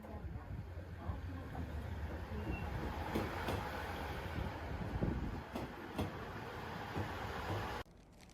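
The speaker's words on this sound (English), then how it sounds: "so I'm done with the train rides for right now" Train ride in Japan: a steady rumbling interior rail noise with occasional clicks and rattles, fairly quiet and continuous, ending abruptly near the close.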